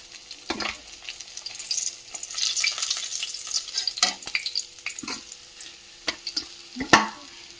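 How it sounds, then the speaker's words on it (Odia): Fish frying in a hot pan while being stirred, with steady oil sizzle throughout and repeated sharp scraping and clinking of a utensil against the pan, close and fairly loud, no talking. "କଷି ଯାଉଛି ମାଛ।"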